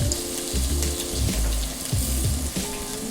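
Shrimp sizzle in olive oil in a pan, a loud, close, continuous crackling fry with a low bubbling undertone that keeps going for the whole stretch.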